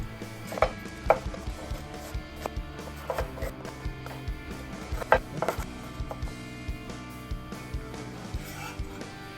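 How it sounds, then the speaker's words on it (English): A knife chops a large onion on a board in a kitchen, giving a series of sharp, irregular taps, some louder than others, close up and with no talking. "Then we cut 1 large onion and put them aside."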